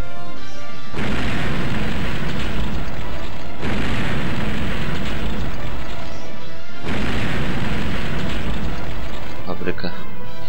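A factory blows up in the Sega Dreamcast game Zombie Revenge, giving three loud, sustained roaring blasts of crashing noise, each lasting a few seconds with brief gaps between them.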